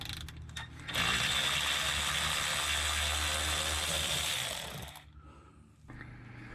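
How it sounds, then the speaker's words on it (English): A ratchet fitted with a 12mm socket backs out body panel bolts on a Hyundai Santa Fe, giving a sustained, rapid close clicking run of about four seconds with quieter handling before and after. "To remove the body panel bolts, you'll need a 12mm socket."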